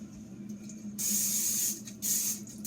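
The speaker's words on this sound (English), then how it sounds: "next I'm going to spray our pan" Short hissing bursts of cooking spray onto a bread pan, two close presses with a brief pause between, close to the microphone over a faint hum.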